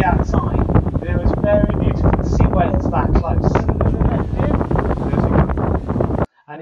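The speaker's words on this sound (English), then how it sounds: "Windy day." Strong wind buffets a ship off Antarctica in cold conditions, a loud, steady roaring rush that fills the scene and breaks off abruptly near the end.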